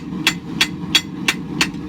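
Steady hand hammer blows forging the bevels of a knife blade, five sharp ringing strikes at an even rhythm, close and clear against a low background hum.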